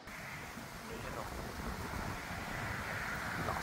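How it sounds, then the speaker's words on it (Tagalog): Strong autumn wind blows outdoors in Finland, a steady loud broadband roar buffeting the microphone throughout, with no gaps or lulls. "Lakas ng hangin."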